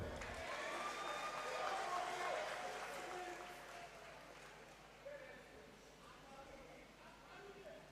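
An audience at a pharmacy school white coat ceremony claps for the students, loud applause at first that gradually thins and fades, with a voice speaking over it.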